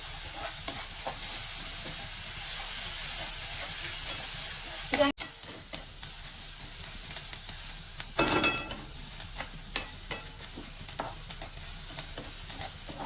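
Onions frying in a pan over a low to medium gas flame, a steady, fairly quiet sizzle broken by stirring scrapes and a louder hiss burst partway through.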